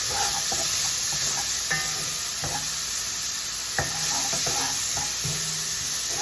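Garlic frying in the same oil used earlier for eggplant, the start of a Sicilian Bolognese sauce for baked anelletti: a steady close sizzle with a few sharp clicks and scrapes of stirring, no voices.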